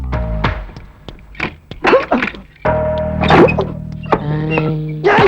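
Several sharp wooden thunks of knocking on a door in a Tamil movie scene, irregular blows mixed with clattering and other scene sounds.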